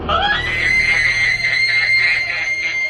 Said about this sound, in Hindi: संजय एक औरत की आवाज में बुरी तरह से चीखा और बेहोश हो गया।